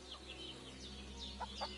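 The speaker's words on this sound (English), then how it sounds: "This chicken is having a wild day." A chicken clucks in the video game Kingdom Come Deliverance II, with a few quiet, short clucks over a low steady ambient hum.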